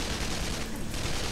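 Rapid gunfire from the robot-shooting game Shoot Many Robots, a dense unbroken burst of shots filling a short moment with no voices.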